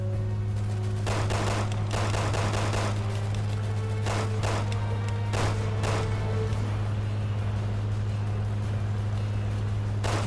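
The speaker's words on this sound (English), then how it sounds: "I'm picking people off with this pistol right now." Rapid pistol gunfire from Resident Evil 6, a dense run of sharp shots and bursts over a steady low game drone, fairly loud and continuous throughout with no talk.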